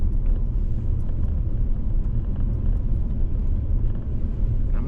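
A car drives up a mountain road in the Smokies, its engine and tyres making a steady, low rumbling drone heard from inside the vehicle, without pause.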